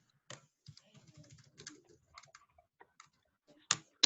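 Computer keyboard typing in a classroom setting: quiet, irregular key taps scattered across the span, ending in a couple of sharper, louder clicks.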